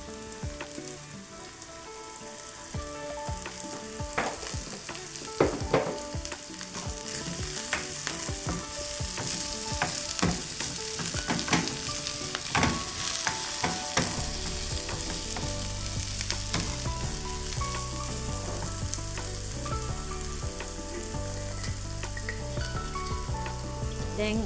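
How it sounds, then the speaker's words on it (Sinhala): Vegetables with chilli flakes and pepper sizzle steadily in hot oil in a pan for potato roti, with scraping stirs and clinks of a utensil throughout, close and continuous. "අපි දැන් මේ ටික ඔක්කොම හොඳට තෙලේ බෙද ගමු"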